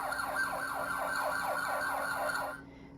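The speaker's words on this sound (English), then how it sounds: "The loud sirens warn other drivers to move aside and let the police car" A police car siren wails in a rapid, regular up-and-down pattern on a road, loud and steady, then stops abruptly near the end.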